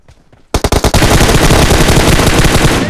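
Gunfire from PUBG Mobile bursts in after a quiet half second: a few separate loud shots, then a continuous, rapid automatic stream blasting close and heavy to the end.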